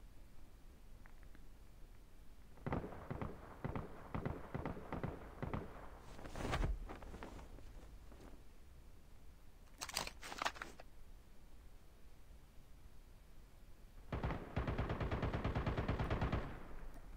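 Machine gun fire in the mobile shooter Call of Duty Mobile, a magazine of about 94 rounds, heard as several rapid bursts of shots separated by pauses, moderately quiet with game sounds between bursts and no talk.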